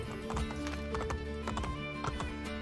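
Horse hooves clip-clop in steady rhythmic beats in Assassin's Creed Brotherhood, close and clear over a low ambient game hum.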